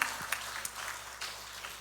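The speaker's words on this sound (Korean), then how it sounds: "우리에게 축복 주신 하느님께 감사 박수 드리겠습니다." Brief, fairly faint applause from a church seminar audience, a light patter of clapping that stays steady for a couple of seconds.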